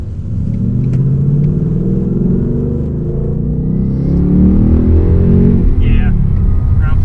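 A 2018 Ford Mustang GT's Coyote V8 engine revving under acceleration, a loud deep rumble building steadily in pitch with speech over it.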